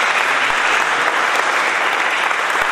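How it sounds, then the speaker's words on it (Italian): Audience applause for a lawyer at a public meeting about the Mercure power plant, dense sustained clapping from a crowd filling the whole stretch at an even, loud level. "chiedo a nome di tutti quanti un applauso all'avvocato"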